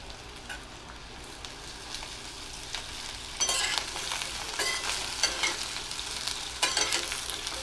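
Bottle gourd mixture sautéing and being stirred in a pan, a steady soft sizzle with brief scraping strokes that grow louder in the second half, no voices.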